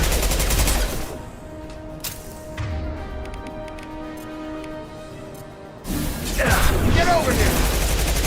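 Gunfire bursts in the video game Mass Effect 2, loud at the start and end with a quieter stretch between, a voice speaking over the shots.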